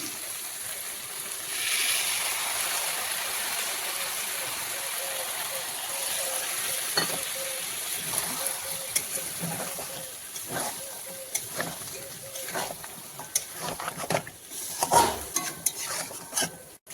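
Cashew, raisin, almond and poppy seed paste fries with mutton for a mutton korma, giving a soft hiss and sizzle broken by sharper stirring scrapes and taps that grow busier toward the end.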